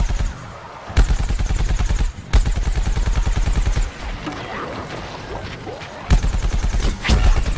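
Rapid automatic gunfire from the video game Plants vs Zombies rattles in loud sustained bursts, broken by short pauses and sharp cracks, with other game sounds between volleys.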